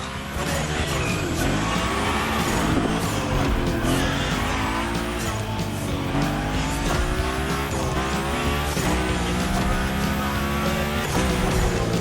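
Cars sliding and drifting through a gymkhana course in The Crew Motorfest, continuous loud engine roar with rising and falling revs under repeated tire squeals and skids, no talking.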